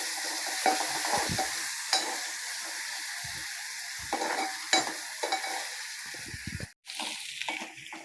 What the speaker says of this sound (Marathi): आता मी त्याच्यात हा बारीक चिरलेला टोमॅटो घालणार आहे आणि तोही छान मी त्या कांदा आणि मिरचीवरती फ्राय करून घेणार आहे